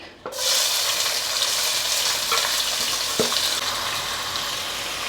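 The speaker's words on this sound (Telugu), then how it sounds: "ఈ 4 ఉల్లిపాయలు ఇట్లా చీలికలు కోసుకుందాం కదా, బ్రౌన్ కలర్ వచ్చే వరకు వేయించుకోవాలి." Four sliced onions frying in hot oil toward brown, a loud dense sizzle surging in after a brief start and holding steady, with a couple of faint stirring knocks, no voices.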